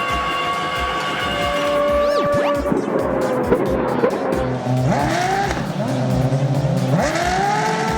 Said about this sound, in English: Formula One car, a super fast racing car used in big races.